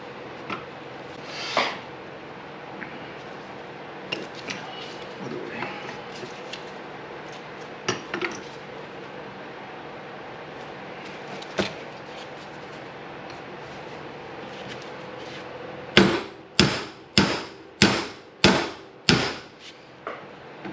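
A hammer raps on parts of an RB26 engine with individual throttle bodies during teardown: faint scattered taps at first, then a close run of about seven sharp, evenly spaced metallic strikes.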